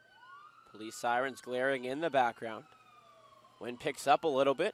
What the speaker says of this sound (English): Police sirens glaring in the background.